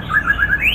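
A white-rumped shama (murai batu) songbird at a bird contest gives a brief, loud series of bright chirps and whistles, close by, rising at the end.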